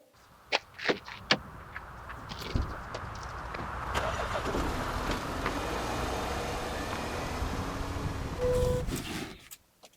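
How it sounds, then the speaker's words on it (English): A brown Porsche Cayenne SUV with 200,000 miles: a couple of sharp clicks and thuds, then the engine rumbles and runs steadily up close for several seconds before fading, with a door clunk at the end. "We're going for a drive in the brown car"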